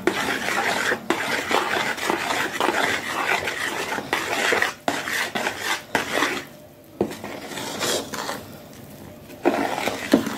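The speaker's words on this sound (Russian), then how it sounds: "Добавляю уже муку высшего сорта и мешаем" Scraping and clinking of a spoon working flour into yeast dough in a bowl, irregular strokes with brief pauses, close and fairly loud.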